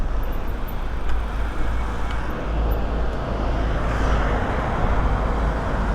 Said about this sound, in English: Wait for this car then.